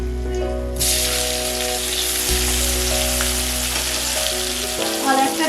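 Chopped onions with cloves and cardamom fry in hot oil for a Bengali chicken curry, a loud steady sizzle that starts abruptly and carries on over a low background hum, with no talking.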